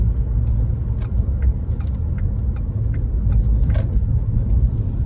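A car drives past with a steady low engine rumble and road noise throughout, accompanied by a few faint light clicks and jingles, with no talking.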